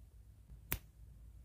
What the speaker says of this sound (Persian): و بریم با یه بشکن